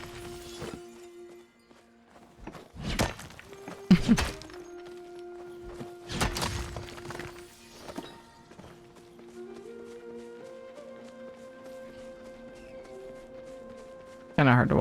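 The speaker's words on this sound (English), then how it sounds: "kind of hard to watch my character run swinging the sword like that" An Elder Scrolls Online character runs and swings a sword, with scattered heavy thunks and swooshing impacts rising over steady sustained background music.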